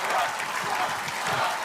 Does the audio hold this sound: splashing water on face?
no